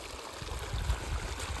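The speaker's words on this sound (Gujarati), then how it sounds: "કેવું પાણી કાઢે છે મેમકો કંપનીની છે ને 5 હોર્સ પાવરની મોટર જો આટલું પાણી કાઢે છે" Water gushes from the outlet of a 5 hp Memco electric pump motor, a steady broadband rush with low churning turbulence, loud and close, with no voices.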